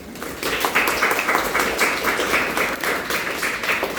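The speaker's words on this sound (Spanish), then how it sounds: "Un aplauso." Steady applause from a group, dense overlapping claps sustained at a fairly even loudness throughout, fairly close.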